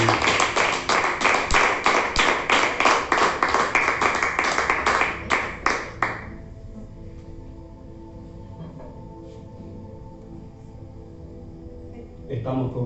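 Church congregation clapping in steady, rhythmic unison for the Lord, loud and close for about six seconds before stopping abruptly, leaving quiet room tone and faint sounds until a brief burst near the end.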